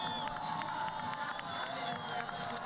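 Spectators cheer and shout steadily throughout a Paralympic women's sitting cross-country ski race at Sochi, forming a continuous broad roar of crowd noise with no pauses.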